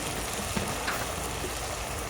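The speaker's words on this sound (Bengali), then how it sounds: "এবার মশলাটা দিয়ে আমি ভালো করে মশলাটাকে ভেজে নেব।" Masala spices with turmeric and salt fry in hot oil, giving a steady, close sizzle with a few soft stirring scrapes.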